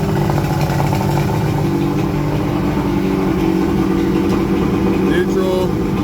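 A 1979 Evinrude 100 hp V4 two-stroke outboard motor runs steadily in reverse at about 1500 RPM, giving a loud, continuous low engine drone throughout with no break.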